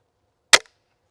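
A flintlock muzzleloader fires one sharp, loud crack with a short decay, followed by a faint small click a moment later in otherwise quiet surroundings.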